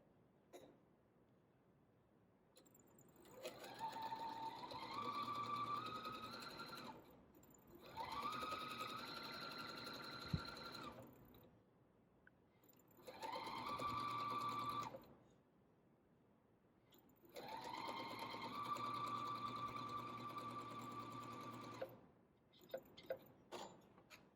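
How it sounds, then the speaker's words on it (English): A sewing machine stitches a fabric strip onto a quilt block with a quarter-inch seam. It runs in four steady whirring bursts of several seconds each, with quiet pauses and faint handling clicks between them, close and clear. "take the smaller strip for my next row and sew that 1/4 inch down the side"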